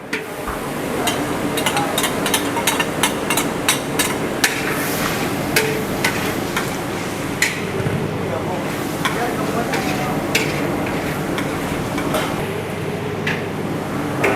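Garlic going into broccoli and squid stir-frying in a large batch, a steady sizzle with frequent sharp clacks of a metal utensil against the pan, close and continuous, with a voice talking at times.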